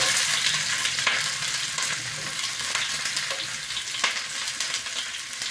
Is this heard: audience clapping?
no